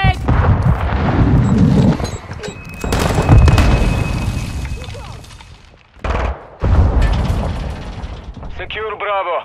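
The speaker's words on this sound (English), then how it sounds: "Tossing sticky grenade!" In a Modern Warfare II Domination match, heavy booming blasts and dense gunfire come from a sticky grenade explosion and ongoing shooting, loud and continuous with brief lulls, while voices call out over the combat.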